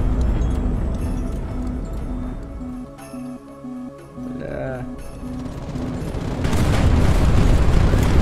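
Dive-bombing airships drop FAB 1000 bombs on combat ships in HighFleet, producing heavy rumbling booms and bursts over a steady game drone. The detonations swell louder toward the end.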